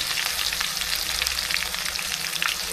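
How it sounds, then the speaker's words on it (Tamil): Ground masala paste fries in hot oil with a steady, bright crackling sizzle and small popping bursts, close and continuous throughout, with no voices. "போட்டு இது எண்ணெயில் கொஞ்ச நேரம் வேகட்டும்"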